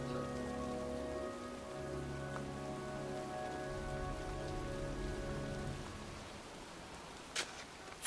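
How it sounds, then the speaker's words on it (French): Steady rain falls across a cemetery in the game Heavy Rain, a dense continuous patter with low tonal music underneath that fades out near the end, followed by a couple of brief sharp noises. "Foutue pluie. Je suis déjà trempé jusqu'aux os."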